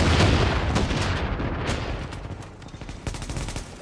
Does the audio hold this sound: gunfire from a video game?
yes